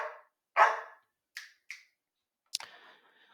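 Dogs making noise in the background, a few short separate yelps and barks spaced across a quiet moment, with one sharper bark trailing off near the end, fairly faint and with no talk over them.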